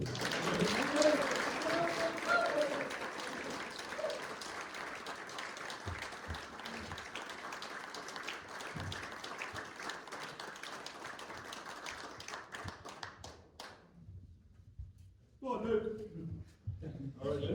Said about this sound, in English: Will you please give him a big round of applause to Luke Money.